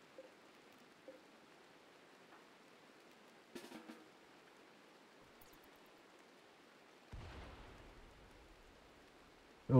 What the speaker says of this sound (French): Heureusement, il pleut.